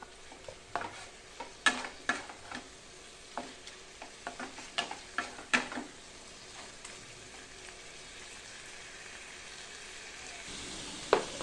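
Chicken sautéed with spices and salt in a pan, stirred in bursts of scraping and clatter over the first half, then settling into a quieter steady sizzle.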